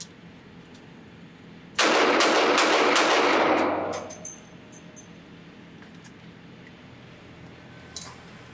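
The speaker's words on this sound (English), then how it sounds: "I can't believe I'm shooting this gun this bad." A Standard Manufacturing S333 Thunderstruck .22 WMR revolver fires in volley mode at an outdoor range, a loud burst of several rapid shots lasting about two seconds and tailing off, with faint clicks afterward and no talking.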